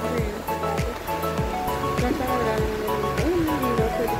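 A river in Kaohsiung, Taiwan, gives a steady, rushing wash of flowing water throughout. People chat casually over it and background tones mix in.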